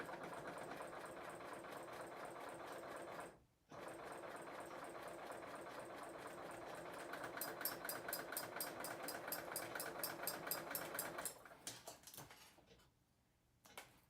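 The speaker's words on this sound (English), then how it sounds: "I'm going to stitch a perfect 1/4 inch seam in covered chain stitch mode with the Serger straight stitch" Serger sewing a 1/4 inch seam in cover chain stitch mode: a steady fast mechanical whir with rapid rhythmic clatter, briefly stopping once, then running on before slowing and halting near the end.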